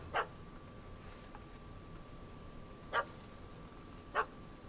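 A dog in The Witcher 3 video game barks three separate times, short sharp yaps spaced a second or more apart over a steady low background hum.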